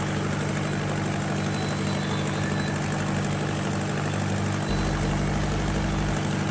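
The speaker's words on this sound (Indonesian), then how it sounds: "Nah ini adalah ruang mesin." A fishing boat's engine room on a bagan lift-net vessel, with the engine running steadily, loud and close, a constant low droning hum with dense mechanical clatter and no talk.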